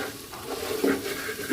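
A spoon stirs biryani masala and Kashmiri red chili in a pressure cooker, making a soft continuous scraping and sizzle with a couple of louder clunks against the pot.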